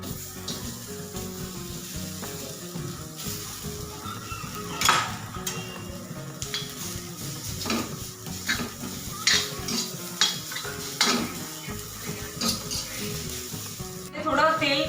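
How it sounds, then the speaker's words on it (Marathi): Sliced onion frying in oil in a pan, with a constant close sizzle under repeated scraping and clinking of a spoon against the pan, and no speech. "तर पहिला मी कांदा टाकते"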